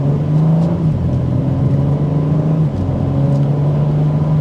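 A 2024 BMW M4 Competition's active exhaust in regular mode rumbles at a steady low drone, with a slight dip and recovery in pitch, continuous and fairly loud with no talking.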